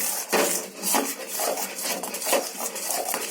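Seembal poriyal, a colostrum milk dish, is stirred in a pan with a utensil, giving continuous close scraping and clinking strokes in an uneven rhythm with no voices.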